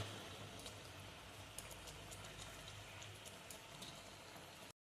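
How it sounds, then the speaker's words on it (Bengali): Gravy with soybean kofta balls bubbling in a pot, a faint, steady simmer of small pops and crackles that runs without pause and with no voices. "আমার ফুটছে, এইভাবে আমি বড়াগুলো দিয়ে দেবো।"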